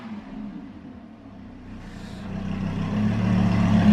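A Lamborghini Huracan on its stock factory exhaust rumbles deeply, swelling steadily louder and heavier as the engine builds revs toward the end.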